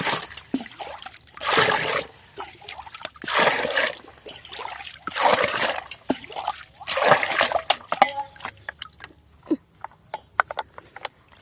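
Repeated bursts of water splashing and sloshing in a farm field, several loud surges separated by quieter trickles, ending in scattered drips and small splashes.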